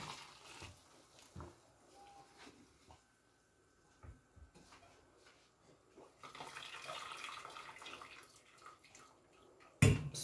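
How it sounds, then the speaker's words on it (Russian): Cooked spaghetti is drained into a colander in a home kitchen, the quiet pour and splash of water rising in the second half and ending with a sharp clatter. "Спагетти сварились. Мы их отбрасываем на дуршлаг."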